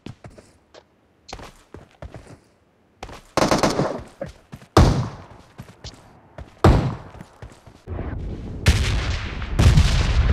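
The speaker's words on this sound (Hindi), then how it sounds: "बॉट है, मैं शॉटगन से मार रहा हूँ" Repeated shotgun blasts and other gunfire in a shooter video game, loud sharp bursts coming in irregular clusters with short gaps, some overlapping into sustained volleys, with no talk.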